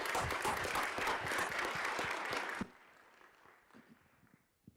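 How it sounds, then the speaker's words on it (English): An audience at a school board of education meeting breaks into a brief round of applause, dense clapping for under three seconds that stops abruptly, leaving a quiet room with a few faint stray sounds. "if we can just give everyone just one quick round of applause"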